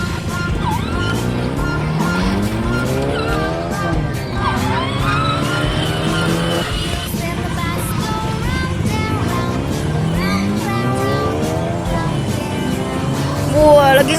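A toy police car races around a park in front of a house. Its wailing siren tones sweep up and down in repeated cycles, loud and continuous throughout, with children's voices around it.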